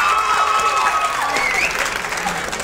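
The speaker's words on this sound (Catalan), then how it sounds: "Un públic entregat que aplaudeix totes les coses que passen aquí a plató." A studio audience at a Catalan TV quiz show claps steadily, a dense, loud burst of applause that fades slightly toward the end.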